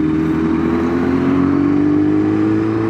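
A Kawasaki ZX-10R sport motorcycle engine holds a loud, steady rev close to the microphone, its droning tone rising slightly over a few seconds with no talking.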